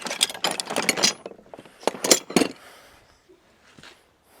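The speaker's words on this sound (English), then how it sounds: "Can you turn a van over for me?" The engine of a Top Gear van is cranked over with a rapid mechanical whirring and chattering. It comes in two bursts separated by a pause, then a quiet, faint tail.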